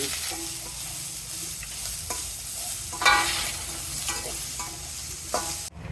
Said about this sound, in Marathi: मी कांदा फ्राय करून घेत आहे कांदा साठी मी एक चमचा तेल टाकणार आहे